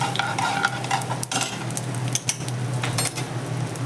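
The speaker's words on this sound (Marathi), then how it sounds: "थोडासा हिंग देखील आपण यामध्ये घालून घ्यायचा आहे आणि हे व्यवस्थित बारीक गॅसवर आपल्याला छान असं परतून घ्यायचं आहे" Cumin seeds and asafoetida sautéing in oil over a low gas flame, a soft continuous sizzle with scraping stirs and light metallic clinks of a spoon against the pan, close by.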